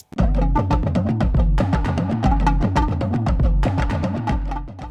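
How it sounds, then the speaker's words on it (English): A punchy beat of deep booming 808 bass hits under the pitched, bending tones of talking drums in a repeating rhythm, loud and upfront, the basic beat of a character's theme. "just the 808 and the talking drums sounds like this"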